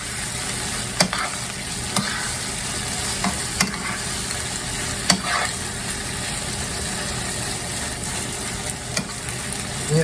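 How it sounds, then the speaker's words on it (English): Cream cheese chicken sauce warming in a pan for keto cheesy garlic chicken, a soft steady sizzle with occasional scrapes and taps of the utensil stirring, quiet and close. "We just gotta heat it up a little bit and make sure this cream cheese comes to a more liquidy consistency."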